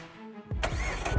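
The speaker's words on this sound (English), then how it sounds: "The HKS Legamax Premium really brings this engine to life." Mazda MX-5 Miata RF engine fitted with an HKS Legamax Premium exhaust cranks and fires up, catching abruptly after a brief starter whir and settling into a loud, close idle.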